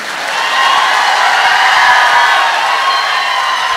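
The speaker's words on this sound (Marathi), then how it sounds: "जोरदार टाळ्या होत्या खासदार साहेबांसाठी." Strong, steady applause from an audience at a Marathi comedy speech, a dense wash of many hands clapping with some cheering, sustained and loud throughout with no break.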